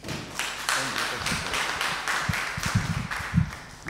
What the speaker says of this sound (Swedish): Vi ger David en applåd här.